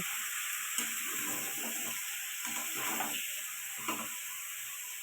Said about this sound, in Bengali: এবার মাংসটাকে বেশ ভালো করে কষে নেব